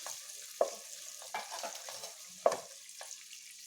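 Onions with a pinch of salt fry for vegetable biryani, a quiet sizzle punctuated by a few sharp scrapes and taps of a spoon against the pan.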